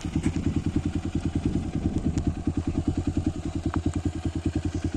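A Honda XR150L motorcycle engine chugs nearby with a fast, regular thumping beat that stays steady and loud for the whole stretch.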